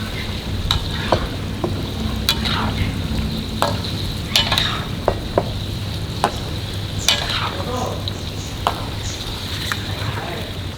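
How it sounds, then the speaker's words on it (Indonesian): Kikil, pieces of beef skin, fry in a pan while being stirred, a steady close sizzle broken by frequent sharp scrapes and clacks of the utensil. "Nih kita goreng kikilnya."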